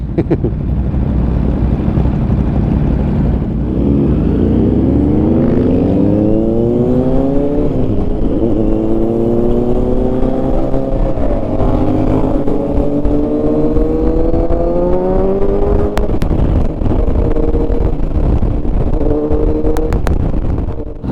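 Ducati motorcycles rev loudly at close range at an outdoor year-end rider gathering. Engine pitch rises and falls in repeated sweeping revs and overlapping throttle blips that continue for about twenty seconds over constant engine roar.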